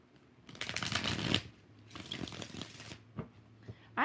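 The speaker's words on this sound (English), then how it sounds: "2 more shuffles." Tarot cards being shuffled by hand during a live reading, in two dense bursts of riffling and sliding followed by a few short, close taps and flicks of the deck, with no talking.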